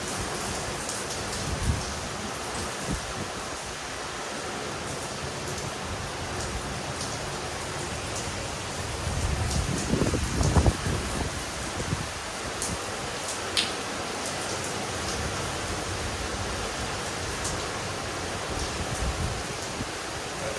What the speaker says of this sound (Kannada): ಇನ್ನೇನು ಮಾತು ಇವತ್ತು ಮಳೆ ಬಂತ.